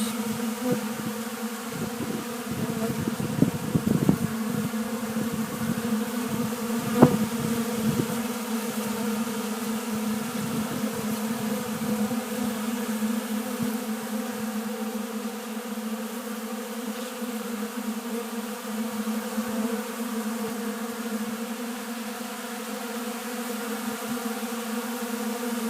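Honey bees buzz in a winter apiary in Oklahoma, a steady close drone with a sustained hum throughout and a few brief knocks early on.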